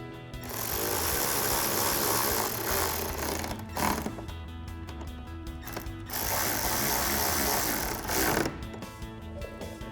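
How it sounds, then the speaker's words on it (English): A powered ratchet with a 7mm socket tightens screws in a 2021-2023 Ford F-150 front fender well, giving two sustained buzzing whirs of a few seconds each with a brief pause between, close and alone. "then we'll tighten those down using a 7mm socket"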